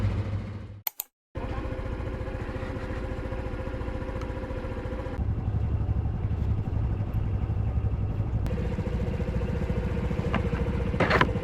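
A Honda Super Cub 110 with a low battery is started after a few failed tries. There is a brief cranking burst, then the small engine settles into a steady close idle that rises slightly partway through.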